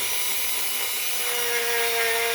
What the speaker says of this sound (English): I need to now sand that inside so we get a nice sanded look and feel.